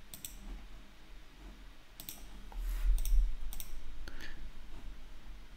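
A short command typed on a computer keyboard, a few soft scattered key clicks spaced through a quiet room with faint background hiss.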